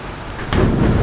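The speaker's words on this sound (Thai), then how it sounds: "โอ้ฟ้าผ่า" Thunder cracks and rolls in about halfway through, a deep, loud rumble with a rain-like hiss layered over it that carries on to the end.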